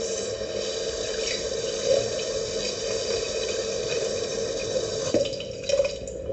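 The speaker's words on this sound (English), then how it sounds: "we wash it in the strainer because we don't want to lose too much of the elements" Water runs steadily through a strainer, rinsing dried cerasse (syrup bush) herb for Jamaican bush tea: a continuous close splashing flow with a few drip-like accents, and no talk.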